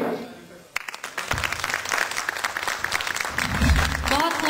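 Audience applause breaks out after a flute performance of a patriotic song on a stage show, a dense sustained clapping that swells and continues, with some voices mixed in.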